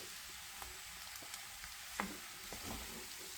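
Potatoes and tomato frying in a pan, a soft steady sizzle with faint crackles and an occasional small tap, quiet and close with no talking.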